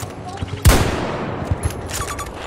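A single loud gunshot in Battlefield 2042 cracks out amid a busy battlefield backdrop, with fainter distant gunfire rattling afterward and someone talking faintly under it.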